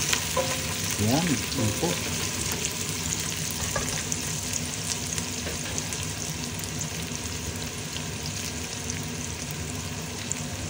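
Chopped onions frying in a pan for pork dinuguan, giving a steady close sizzle broken by scraping stirs near the start, with a short spoken remark over the cooking.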